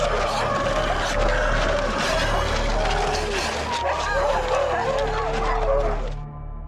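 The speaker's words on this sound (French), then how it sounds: "cette nuit-là, les huskies se livrent un combat terrible" Huskies fighting at night, a dense, loud tangle of barking, yelping and whimpering dogs that runs the whole time, with a voice speaking over the commotion.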